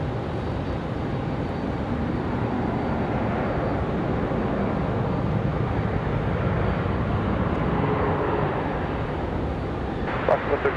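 A United airliner arriving at Raleigh-Durham airport rumbles steadily as a broad, distant jet roar that persists throughout, with a voice speaking over it and a few sharp clicks near the end.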